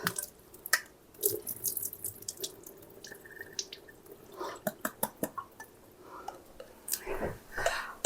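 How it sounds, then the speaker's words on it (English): Running faucet water splashes into a kitchen sink as drained casserole food is rinsed, with a steady close gush, intermittent splashes and drips, and soft talk underneath. "I'm going to rinse them off."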